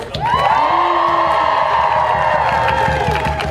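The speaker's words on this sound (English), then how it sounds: "Can we get another round of applause?" Crowd at an outdoor climate strike rally cheering, whooping and applauding continuously, a dense sustained roar with shouts rising above the clapping.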